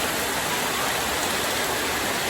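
Summer rain pours down over an open yard, a dense, even hiss of steady falling water with no breaks and no voices.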